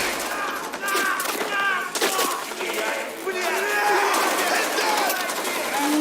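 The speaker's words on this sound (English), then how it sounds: "Is this a fully automatic pistol?" Rapid bursts of fully automatic pistol fire from the Cyberpunk 2077 video game crackle steadily through the clip, mixed with game effects and crowd-like background chatter, while people talk over it.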